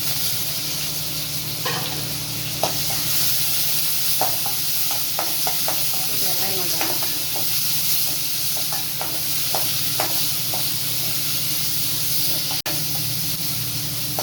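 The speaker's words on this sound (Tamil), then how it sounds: "இப்போ கடுகு சீரகம் பொரிஞ்சிட்டு வெங்காயம் ஒரே ஒரு பச்சை மிளகாய்" Onion and a green chilli fry in hot oil with crackled mustard and cumin seeds, a steady close sizzle running throughout with scattered scraping stirs and light spatter clicks.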